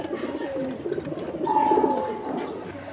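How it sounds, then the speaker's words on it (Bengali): Restless pigeon at a pigeon market selling high-flying breeds such as silver and khaki birds, giving soft cooing and bird sounds near at hand over a low background murmur. "ছটফটা কবুতর।"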